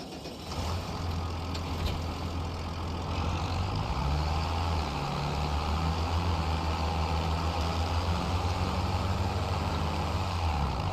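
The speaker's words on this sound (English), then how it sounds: "Let me try to ram it with my tractor." A tractor engine in the video game Farming Simulator 25 drones steadily throughout, a continuous low idling rumble with a faint rising and falling tone, with no speech.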